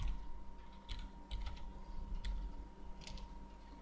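Quiet typing on a computer keyboard: a few scattered key clicks in short bursts over a faint steady hum, with no voice.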